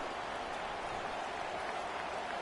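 Football stadium crowd at a college game roaring and cheering during a punt return, a dense, steady wall of voices and applause at full volume throughout.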